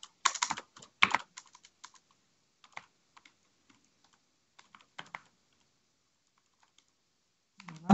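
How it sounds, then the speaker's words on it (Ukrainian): Typing on a computer keyboard, with a quick flurry of clicking keystrokes at first and then sparse single taps spread across a quiet stretch, close and fairly soft. "Ми заходимо на сторінку, пишемо кілька перших слів."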